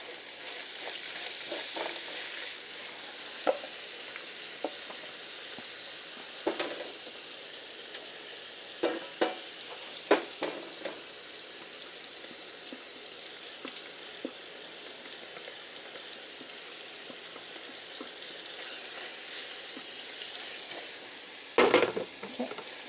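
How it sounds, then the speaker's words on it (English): Chopped onions and bacon fry together in a pan for Russian piroshki filling, giving a continuous close sizzle broken by scattered clinks and scrapes of a utensil against the pan. "These onions I'm going to put in with this bacon."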